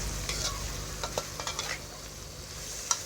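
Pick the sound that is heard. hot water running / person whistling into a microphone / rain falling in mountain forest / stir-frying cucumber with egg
stir-frying cucumber with egg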